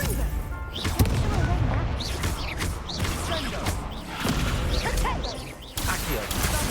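A Confringo fire spell explodes in Hogwarts Legacy amid a busy fight, with repeated crashes, whooshing spell effects and thuds across several seconds and a character's voice in the mix.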